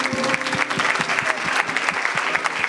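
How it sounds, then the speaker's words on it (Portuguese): Church congregation applauding together, a dense, steady clapping that fills the room at close range, with a few voices mixed in underneath. "Palmas para Jesus."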